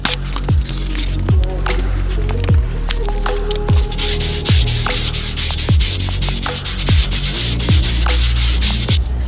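Primer on a 2018 BMW M6 body being sanded with 320-grit sandpaper over guide coat, loud, close, steady scraping strokes in a quick back-and-forth rhythm with no pauses.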